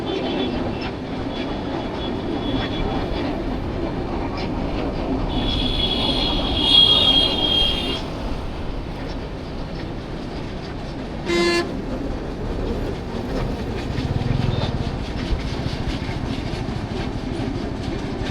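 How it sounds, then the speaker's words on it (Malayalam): A train crosses Pamban bridge at Rameswaram, its steady rolling rumble carrying over wind, with a horn toot partway through and a sharp brief clatter later, no talk. "നമ്മൾ കറക്റ്റ് സമയം കറക്റ്റാണ് വന്നതും ട്രെയിനും വന്നു"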